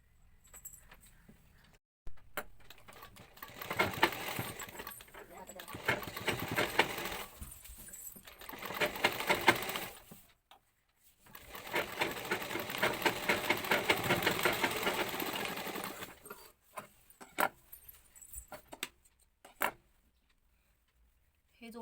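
A sewing machine stitches a fabric strip in bursts of rapid mechanical chatter, each lasting a few seconds, with short pauses and quiet gaps between runs. The machine is close and moderately loud.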